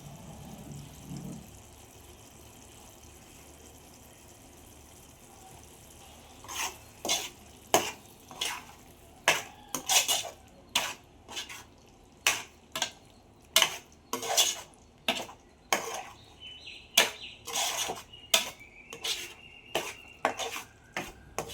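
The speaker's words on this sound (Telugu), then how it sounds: "బాగా కలుపుకోవాలి." A spoon stirs salt, chilli and turmeric into a fish curry, scraping and clinking sharply against the metal pot. The strokes come in a steady run of repeated knocks and there is no talk.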